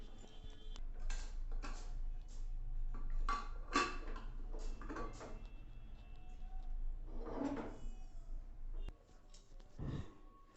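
The lid of a pressure cooker holding a baked strawberry cake is worked open, with faint metallic clicks, clanks and scraping knocks spread unevenly over several seconds, and a louder thud near the end.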